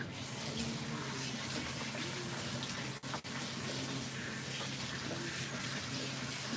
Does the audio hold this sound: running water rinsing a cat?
yes